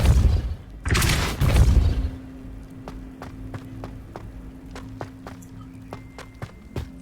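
A Depulso spell fires in Hogwarts Legacy: a couple of heavy whooshing blasts up front, followed by a scatter of sharp, quieter clicks and taps ringing out in a reverberant space.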